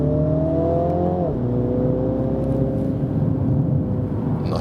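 A Mini Countryman John Cooper Works with a 231 hp engine accelerates through the gears on a coastal road, a loud droning engine note rising, dropping at a shift, then climbing steadily again from inside the car.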